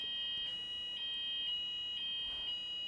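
An electronic alarm sounds in the room, a steady loud high-pitched tone that pulses at a regular beat, continuous throughout and with no voices over it.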